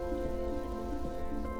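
The Cheeyappara waterfall on the road to Munnar produces a steady, rushing wash of falling water that sounds like heavy rain, continuous and fairly faint over a brief moment.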